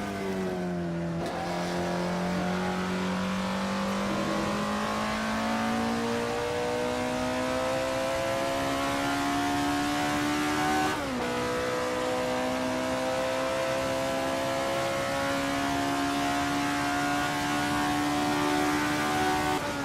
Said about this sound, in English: at the mid-range RPM, it has a very nice throaty growl to it